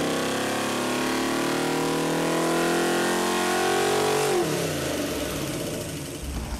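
GM small-block V8 with a modern LS top end screaming at high rpm on a dyno pull, loud and sustained, then dropping off sharply as the throttle closes and the engine winds down.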